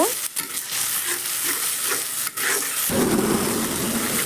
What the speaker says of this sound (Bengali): সব মশলা করে রাখা সেটা এবার আমি ভালো মতো কষিয়ে নিব